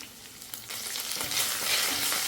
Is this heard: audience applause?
no